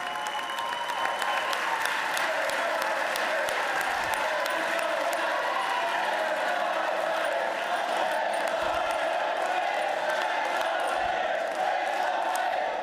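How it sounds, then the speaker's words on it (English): Steady applause from a room of senators standing during a legislative session for a governor's budget address, a dense, even clapping that carries on without a break, with faint voices beneath. "I just noted that 25 senators stood up to clap for that."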